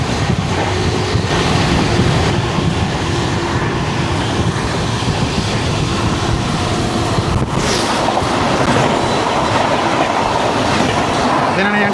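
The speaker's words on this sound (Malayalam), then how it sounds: "ഇത് നമ്മുടെ Bangalore Chennai double decker express ആയിരുന്നു." The Bangalore–Chennai Double Decker Express rolls past with a steady roar and rhythmic wheel clatter, loud and continuous throughout, with a sharp burst partway through.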